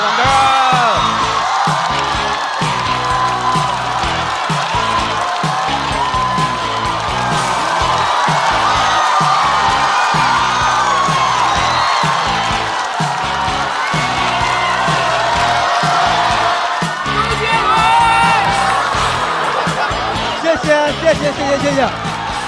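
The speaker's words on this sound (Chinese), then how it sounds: "掌声欢迎何广智" A stand-up comedy show audience roars with dense, sustained applause, cheers and whoops as a comedian is welcomed onstage, with a voice speaking over the crowd noise.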